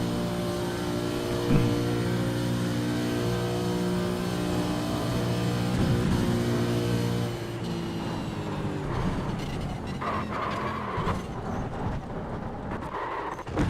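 GT3 race car engine in the iRacing sim on the Nordschleife: a sustained droning engine tone holding a steady pitch, then shifting into rougher, varying revs, fairly loud and continuous, with no speech.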